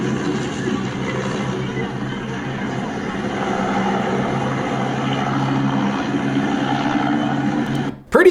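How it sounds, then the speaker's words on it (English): A helicopter passes overhead as tear gas is sprayed on a crowd during an antigovernment street protest in Brazil, its steady rumbling drone loud and continuous before cutting off abruptly at the end. "a helicopter flying over, spraying tear gas on the crowd"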